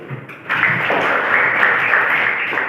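Classroom applause from junior high students, a broad steady wash of clapping that swells in after a brief quiet start and holds evenly to the end, fairly close and filling the room.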